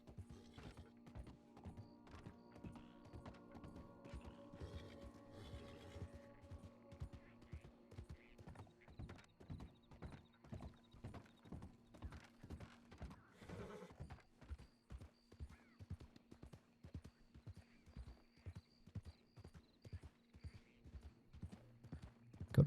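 Steady rhythmic clip-clop of horse hooves trotting along in a Red Dead Redemption 2 roleplay game, close and continuous, with faint mechanical clatter and a little talk underneath.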